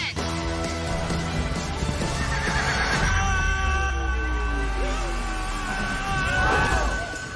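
A horse whinnies loudly in a staged stunt scene, the neigh rising and falling over a rumbling low background with a busy mix of tones, fairly close and sustained across most of the stretch.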